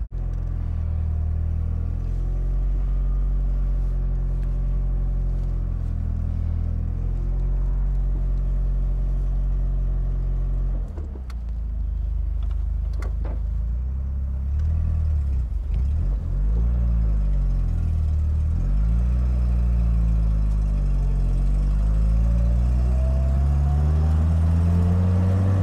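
A Toyota RA28 Celica fastback engine runs in cold weather, a loud, close, steady low rumble that briefly drops off and then picks up again with rising and falling revs.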